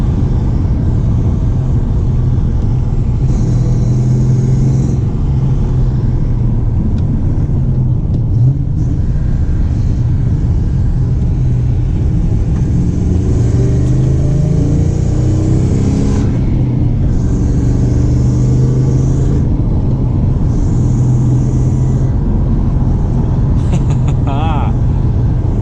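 Engine of a Lincoln Mark VIII with a manual transmission and aftermarket headers pulls steadily under acceleration, a loud, continuous low rumble that rises and swells over the run, with a voice speaking over it at times.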